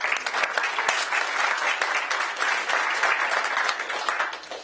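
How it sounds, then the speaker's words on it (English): An audience at a partner program event gives a big round of applause for an organizer, thick, continuous clapping with a few sharper claps standing out, holding steady for several seconds before easing slightly at the end. "big applause to Tricia"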